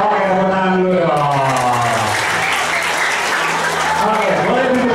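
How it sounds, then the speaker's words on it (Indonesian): A crowd claps and applauds steadily throughout at a leadership and motivation training session, a dense, loud wash of clapping with voices mixed in underneath. "tepuk tangan dulu dong"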